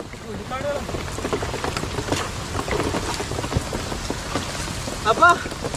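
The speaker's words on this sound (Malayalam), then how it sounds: "നല്ല മഴയാണ്" Heavy monsoon rain pours steadily onto surfaces outdoors, a loud continuous hiss close around, with a few faint voices briefly in the background.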